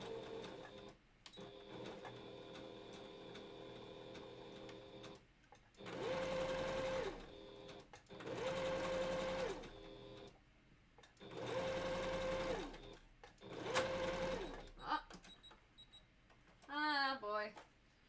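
A sewing machine stitching a balaclava runs in four separate bursts of rapid, whirring stitching, each a couple of seconds long. Quiet gaps come between the bursts and a voice speaks softly now and then.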